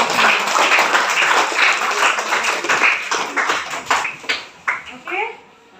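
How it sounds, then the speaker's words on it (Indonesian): A classroom of students claps together, dense and lively, then the applause thins into a few scattered claps as voices pick up. "Beri tepuk tangan untuk kita."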